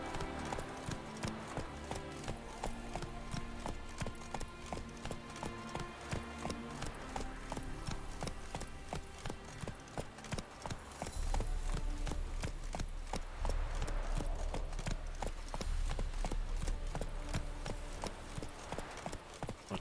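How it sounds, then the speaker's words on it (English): Horse hooves clip-clop steadily in The Witcher 3, a rapid continuous rhythm near a horse-racing circuit, layered with game music and growing louder partway through. "Y este es el caballo que nos pegó"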